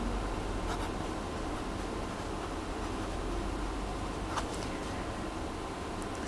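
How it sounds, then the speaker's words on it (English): Pen or pencil scratching steadily across paper while a trigonometry formula for a non-right-angled triangle's area is written out by hand, a soft continuous close scratching with no talk. "Write your formula."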